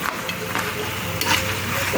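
Chicken feet for adobo sautéing in a pan with onion, garlic and chili: a steady, fairly quiet sizzle with occasional scraping stirs and small crackles, close by.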